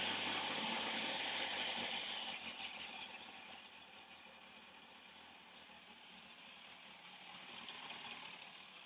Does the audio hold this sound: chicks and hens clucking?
no